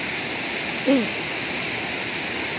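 A river rushes in a steady, loud broadband roar, with a brief voice cutting through once near the start.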